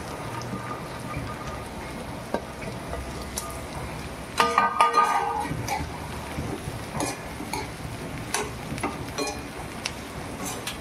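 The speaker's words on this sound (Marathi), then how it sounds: "आता आपण लगेच भेंडी टाकणार आहे. त्याचं कारण असं आहे की आपण जर वेळेवर टाकलं नाही तर कांदा आपला जळून जातो." Okra drops into onions frying in a pan, setting off a burst of crackling sizzle followed by scattered pops and spatters over a steady frying hiss, close and with no talk.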